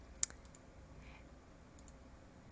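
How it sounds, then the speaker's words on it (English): A single sharp mouse click on a control report in software, faint and brief, then near-silence. "we're just going to click on this one"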